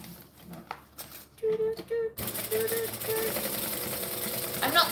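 Sewing machine running in short bursts and then a longer steady stretch, top stitching reptile-print fabric, close and fairly loud with light handling noise around it.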